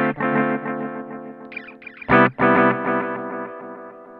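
Guitar played through a BOSS DD-20 Giga Delay in tape mode with two heads active, sustained chords smeared by repeating echoes, with a brief dip and a strong renewed strum midway, loud and alone.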